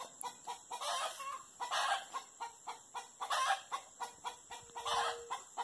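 A flock of farm chickens clucks steadily in short rhythmic bursts, fairly close and unbroken by any voice.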